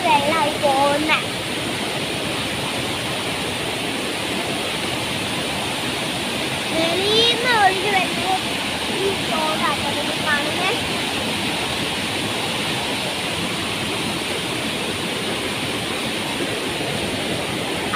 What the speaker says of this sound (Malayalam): കുറേ വെള്ളം പോകുന്നുണ്ട് മഴ പെയ്തിട്ട്